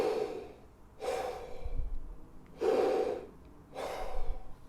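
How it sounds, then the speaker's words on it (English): Deep, quiet inhalations through a wide-open mouth, as a French horn player breathes in, heard as four soft airy breaths spaced about a second apart, close and alone. "When you breathe in, make sure it's as silent as possible and the sound is as deep as possible"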